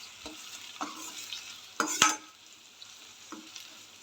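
Egg fried rice is stirred in a frying pan, with soft frying hiss and a few scraping strokes, one louder clatter of the utensil against the pan near the middle, fairly quiet and without speech.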